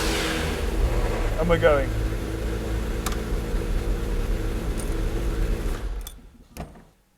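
The engine of a McLaren F1 supercar rumbles steadily at idle under brief talk, with a deep, constant drone before it cuts off abruptly near the end.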